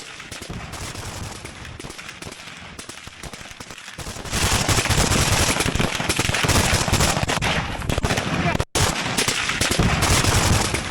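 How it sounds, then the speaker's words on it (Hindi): Assault rifles fired by Ukrainian soldiers at close range in a combat assault, dense rapid bursts that grow louder and nearly continuous after the first few seconds, with a brief cut near the end. "बेहद करीब से फायरिंग कर रहे हैं यूक्रेनी जवान।"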